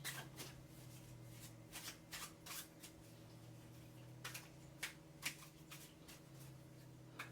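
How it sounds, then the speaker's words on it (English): A deck of life cards from a party card game similar to Cards Against Humanity is riffled and shuffled, several quick papery bursts at close range over a steady low electrical hum. "Shuffling them up."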